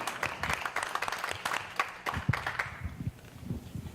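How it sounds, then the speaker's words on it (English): Audience clapping for three panelists at a cannabis industry event, fairly faint and distant, with uneven individual claps over a few seconds. "One more round of applause for these three up here."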